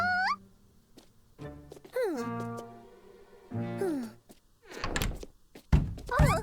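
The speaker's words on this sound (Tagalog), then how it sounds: "May kumakatok ng paulit-ulit." Repeated knocking on a door in an animated children's cartoon about aswang catchers: several dull thunks in irregular groups, mixed with cartoon voices and sweeping tonal sound effects.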